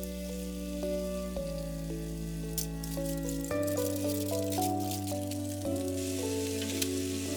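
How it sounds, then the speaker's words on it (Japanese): Meat rolls steam-fry in a single frying pan after a splash of cooking sake, giving a steady, continuous sizzle that runs under prominent melodic background music throughout. "料理酒を少し入れて蒸し焼き"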